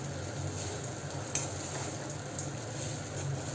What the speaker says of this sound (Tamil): இதெல்லாம் ஒன்று சேர்ந்து வர்ற அளவுக்கு நல்லா மிக்ஸ் பண்ணணும்.